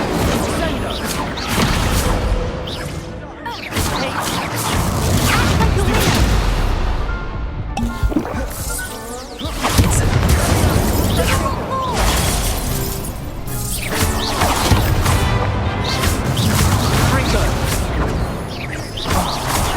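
Repeated fiery spell blasts from the Incendio spell in Hogwarts Legacy, loud bursting crashes and roaring whooshes recurring throughout a chaotic fight, mixed with shattering impacts and voices speaking.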